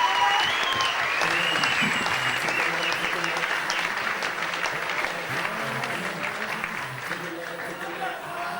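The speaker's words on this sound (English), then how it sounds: "So give him a round of applause." Crowd applause at an amateur boxing event, loud and sustained for over eight seconds, a dense clatter of many hands that slowly tapers, with an announcer's voice and crowd chatter running underneath.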